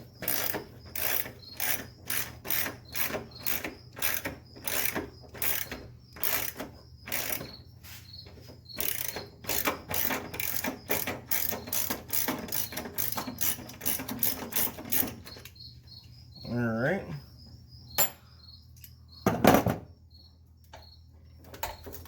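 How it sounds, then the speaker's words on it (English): A hand ratchet clicks in rapid, steady bursts while loosening a bolt on the ABS pump of a Nissan 300ZX, close and clear. It pauses near the end, and a few metallic knocks and handling noises follow. "One more bolt to go, and this should be loose."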